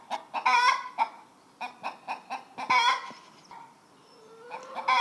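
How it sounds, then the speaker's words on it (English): Garden chickens cluck in loud, close bursts, with a run of rapid calls followed by softer intermittent clucks and short pauses between them. "Here we have the chickens."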